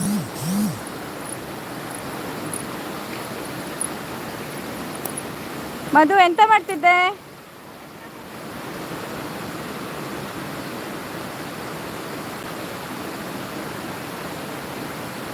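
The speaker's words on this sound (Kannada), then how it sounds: "ಜುಳು ಜುಳು ಹರಿವ ನೀರಿನ ನಾದ" Murmuring stream water flows steadily over stones in a narrow mountain valley, a constant broadband wash running throughout, with a brief burst of nearby voices talking over it midway.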